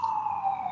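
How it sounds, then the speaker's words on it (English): A passing emergency vehicle's steady siren wail holds at a high pitch, loud and close, with no talking over it. "sorry for the sirens passing here"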